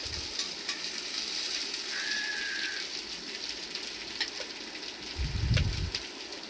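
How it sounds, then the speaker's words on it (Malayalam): Soaked, sprouted gram being stir-fried in a pan, with a continuous close sizzle, scattered scraping clicks from stirring and a short low thud near the end, and no talking. "അതൊന്ന് ഒരു സ്റ്റിർ ഫ്രൈ പോലെ ഒന്ന്"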